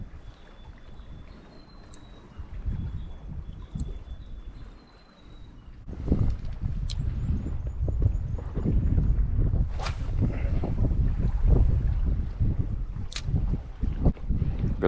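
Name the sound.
wind on the shore while land-based squid fishing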